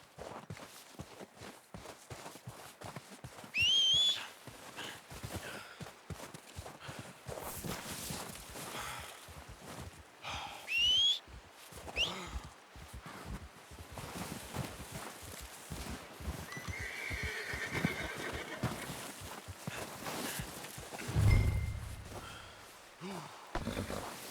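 Video game horses walk with repeated clip-clop hooves, with a couple of sharp neighs and a snort standing out over ambient game sound, and no talk.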